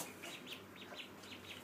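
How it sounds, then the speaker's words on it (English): Baby chicks giving a quick series of soft, high peeping chirps at a steady rhythm, faint and close in a quiet indoor space. "Baby chicks, I'm going to let them in my house all day long."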